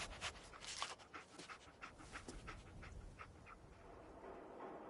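Dogmeat, the canine companion in the video game Fallout 4, pants in steady rapid breaths close by, with faint game ambience underneath and no talking.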